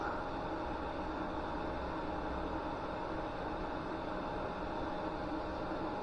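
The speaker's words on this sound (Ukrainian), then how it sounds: "Ну так, тепленький, ловкий воздух дує." An electric vegetable dryer under repair runs steadily, its fan blowing warm air with an even, quiet whirring hum and hiss that holds constant throughout.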